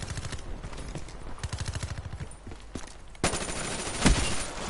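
Rapid automatic fire from an FFAR assault rifle in a first-person shooter game, bursts of quick rhythmic shots up close, then a louder sharp blast and noisy clatter near the end.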